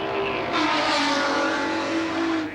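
A touring race car at Winton in the 1985 ATCC roars loudly on track, its engine note holding a steady, hard-running pitch for a couple of seconds.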